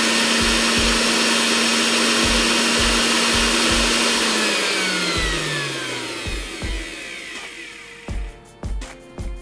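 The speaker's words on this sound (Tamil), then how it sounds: "மட்டன் வந்து நம்ம நல்லா அரைச்சிட்டோம்" A loud, steady grinding whir of a kitchen mixer grinder mincing mutton runs on, then the motor winds down and slows, ending in a few short bursts.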